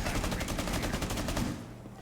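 Dense, rapid gunfire from a Rainbow Six Siege esports match, overlapping bursts and single shots cracking steadily for about a second and a half before dropping back to a lower ambient rumble.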